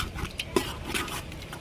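Soft scraping and stirring of a ground spice paste (vatan) being roasted in a pan for chicken curry, brief and close, with faint clinks of a utensil against metal.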